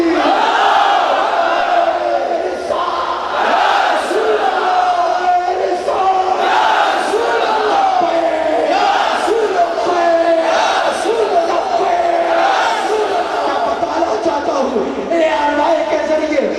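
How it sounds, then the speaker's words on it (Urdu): A large crowd at a religious gathering shouts a Takbir chant in loud, rhythmic unison, voices rising and falling in repeated waves over a sustained roar. "نعرہ تکبیر"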